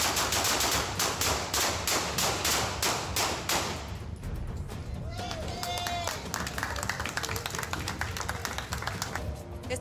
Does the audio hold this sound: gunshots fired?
yes